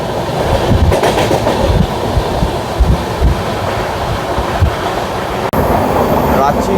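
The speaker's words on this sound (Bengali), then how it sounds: "দেখুন ট্রেনটা কি সুন্দর কার্ভের মধ্যে দিয়ে যাচ্ছে" The 18615 Kriya Yoga Express from Howrah to Ranchi rounds a curve on the Ranchi ghat section, giving a loud, steady rolling rumble with faint wheel clatter. The noise dips briefly near the end, then resumes.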